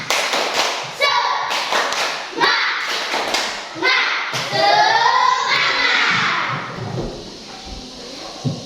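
A standing class does a rhythmic spirit clap, with patterned bursts of clapping in sets alongside children's voices chanting, then excited shouting and chatter as the routine ends.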